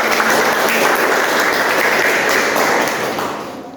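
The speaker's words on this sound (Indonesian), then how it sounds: "Tepuk tangan anak." Classroom full of children clapping together, loud and dense continuous applause that holds steady before tapering off at the end.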